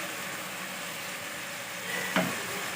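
Spices and tomatoes frying in a pan make a soft, steady sizzle close by, with one brief clink near the end and no voices.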